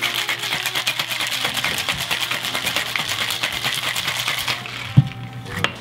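Ice rattles rapidly and rhythmically inside a cocktail shaker with a martini and fresh orange juice, a steady clattering for about five seconds before it stops, with no voices.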